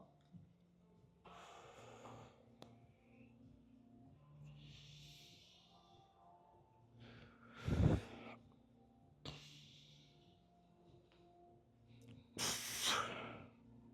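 Slow, deliberate breathing during a yoga class, with soft hissing exhales and inhales repeating every couple of seconds, close and quiet, with a couple of louder sharp breaths.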